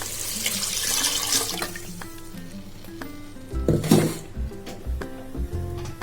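Water pours and splashes into a pot of cooking mutton kuzhambu, starting as a steady stream and ending in a few heavier gurgling sloshes.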